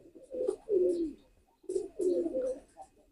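Doves cooing close by, two clear repeated phrases of low, throaty, rolling coos separated by a short pause, with no other sound.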